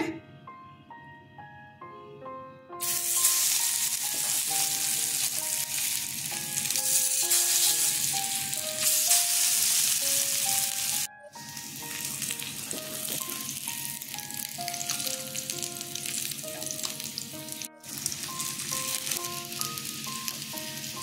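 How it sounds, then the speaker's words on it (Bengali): Stuffed ash gourd slices frying in a pan, a steady bright sizzle lasting throughout, close and loud with brief breaks, under soft background music. "আমি এবার এগুলো ভেজে নিচ্ছি।"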